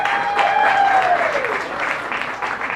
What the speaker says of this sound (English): Y'all can cheer now.